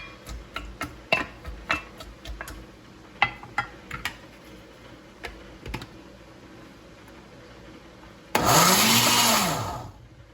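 A blender purees tomatoes for a high-protein vegan stew, starting abruptly as a loud steady whir for about two seconds before winding down, after a stretch of light rhythmic tapping and clicking.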